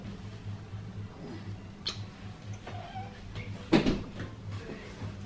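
A cat gives a single short meow near the close, set against soft ticking and faint room noise in a quiet indoor space, with no talking.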